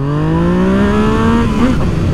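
A motorcycle engine revs while being ridden, its pitch rising smoothly and then dipping briefly near the end, loud and close with no talking.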